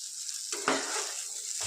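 Boneless chicken sizzles loudly in a hot pan for soup, a steady frying hiss with a brief clatter of stirring near the middle, close and continuous.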